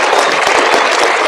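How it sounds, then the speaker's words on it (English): Applause from an audience at a Veterans Day ceremony at East Catholic High School, a dense steady clatter of many hands clapping together throughout, close and loud. "Let's clap it up."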